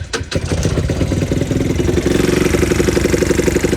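A Talon GSX 150 R2 motorcycle engine, with a freshly adjusted throttle, cranks with a few quick loud turns and then settles into a steady, close, rapid putter of idling.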